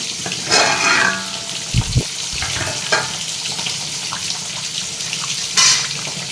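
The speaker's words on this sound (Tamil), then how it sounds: "இங்கே மீன் வறுத்துட்ருக்கேன்." Jilebi fish (tilapia) fries in a pan, a close, continuous sizzle with a few louder bursts of crackling and clatter.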